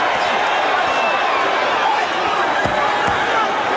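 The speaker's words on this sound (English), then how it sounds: "This crowd in a frenzy, most of them standing." A boxing arena crowd roars in a frenzy during a Troy Waters versus Terry Norris bout, most spectators on their feet, a dense continuous wall of cheering and shouting with a few thumps and a commentator talking over it.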